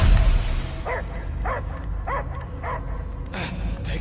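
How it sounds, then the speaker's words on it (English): A dog in a Guardians of the Galaxy scene barks in a steady series of about five evenly spaced yips and barks, close and clear over a low rumbling background. "I hear only barking."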